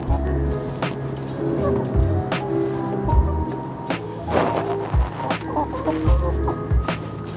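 Chickens cluck steadily throughout, several birds close by in repeated short bursts, with people talking over them.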